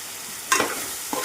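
Masala spices fry in a hot pan for a raw prawn curry, giving a brief sizzle with two short bursts of stirring, close and fairly soft.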